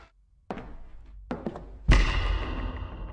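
A door opens in the video game Perception: a couple of soft wooden knocks and creaks, then a heavy thud that rings out into a dull rumble, close up and with no speech.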